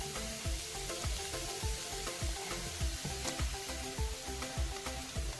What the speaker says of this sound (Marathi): आपण गाजर घालणार आहोत आणि या तुपामध्ये गाजर तीन ते चार मिनिट हलवत हलवत छान असं परतून घेऊयात